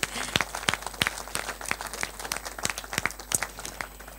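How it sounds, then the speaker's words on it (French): Sparse, uneven hand claps from a small audience at a French activists' New Year's greetings event, sharp individual claps scattered steadily across the stretch at moderate volume with no voices over them. "Vous pouvez vous applaudir aussi."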